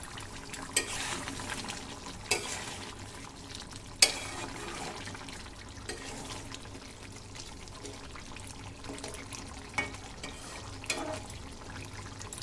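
A spoon stirs chicken curry in a pot, soft wet churning with a gentle sizzle and a few sharp knocks against the metal rim, heard close over a steady low background.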